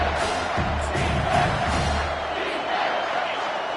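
A home football crowd roars as the defense tries to get off the field on third down, a dense, loud, steady wall of cheering and yelling with some bellowing voices mixed in.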